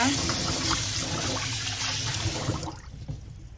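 Sticky rice is washed by hand in water, giving a steady swishing, trickling sound that fades toward the end, with a voice talking over it.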